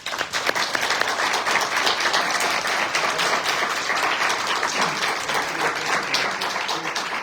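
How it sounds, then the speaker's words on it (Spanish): A room of accountants applauds loudly at the close of a talk, the clapping thick and continuous with a few sharper claps standing out near the start, then holding steady to the end. "los despedimos con un fuerte aplauso"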